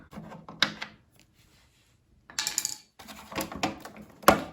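Screws being removed from a side cover on a 2018 Triumph Tiger 1200 XRT motorcycle: close, intermittent bursts of scraping, rubbing and clicking from handling the fasteners, separated by brief silences, with no speech.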